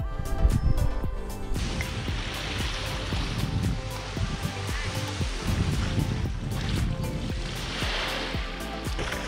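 Waves wash onto a beach in Mallorca, a continuous broadband surf rush with swells and fades, mixed with faint background clatter and murmur.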